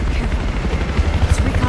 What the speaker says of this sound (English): Watch out. They're coming helo.